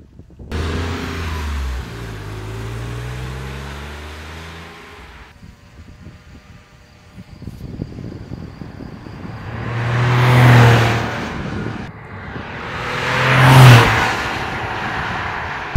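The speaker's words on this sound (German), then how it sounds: "Wir haben ihn sogar schön laufen lassen, hat einen super schönen Sound, der Wagen." A 1997 Porsche 993 Turbo S, the air-cooled 911 with 450 hp, rumbles at idle and then gives two loud revving bursts that swell and fade, with no talk over it.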